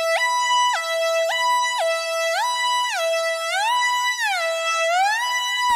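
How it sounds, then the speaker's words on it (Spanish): A bright, buzzy Miami Beach style lead synth in FL Studio plays a melody of sustained notes, each gliding slowly into the next with a long portamento slide, loud and alone before cutting off abruptly. "eso que tarda en llegar desde una nota a otra es lo que le da todo el carácter principal a este sonido"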